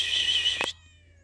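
A cat lets out a single high, drawn-out meow that ends in a sharp break, close and clear, followed by quiet.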